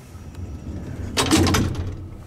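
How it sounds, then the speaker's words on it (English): Doors of a historic 1950s Otis Autotronic elevator slide open with a brief rushing, rattling sweep over a low mechanical hum, fairly close and without talk. "We want to slam the doors open."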